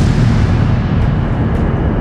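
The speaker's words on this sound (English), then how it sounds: "a powerful explosion rocks the Deepwater Horizon drilling platform in the Gulf of Mexico" A powerful explosion on the Deepwater Horizon oil drilling platform in the Gulf of Mexico, a dense, loud, rumbling roar that holds steady and fills the whole moment.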